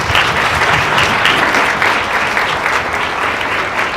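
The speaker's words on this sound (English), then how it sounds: "So if we could have a round of applause" Sustained audience applause at a women's reception fills the room with steady, dense clapping at full volume for the whole stretch, no voices above it.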